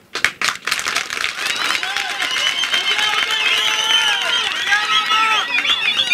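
A crowd at an outdoor public gathering in Mbeya applauds a government minister: steady, loud clapping that swells after a few opening claps and holds throughout, with whistles and cheering voices mixed in.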